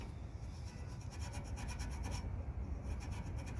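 Steady abrasive rubbing as a Scotch-Brite pad scrubs rust off a steel winch bumper, a continuous close rasping scrape with no pauses and no voices.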